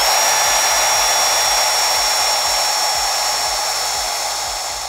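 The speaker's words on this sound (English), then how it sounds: "So we're gonna need to drill two holes so we can use two screws in each one of these vertical pieces" A power drill bores holes into wood for a DIY studio acoustic diffusion panel, giving a loud, steady high whine close by with faint regular ticking underneath and no voices.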